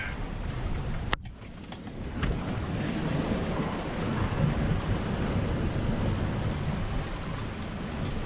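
A sailboat under way on a relatively flat sea, with steady water rush and wind noise against the microphone throughout and a brief sharp knock near the start.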